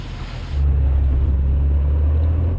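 A Porsche climbs an off-road obstacle to test its approach angle. Its engine gives a loud, steady, close drone that swells and holds after a brief lighter opening.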